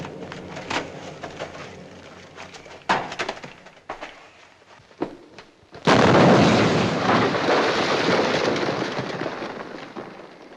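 Several sharp bangs and crackles lead into a loud explosion whose roaring rumble sustains for several seconds before gradually easing off.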